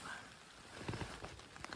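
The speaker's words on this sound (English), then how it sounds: "It's starting to rain a lot more now." Rain falling on a hiking trail campsite in Olympic National Park, pattering on a tarp overhead in quick, uneven drops, faint and close, with no talk.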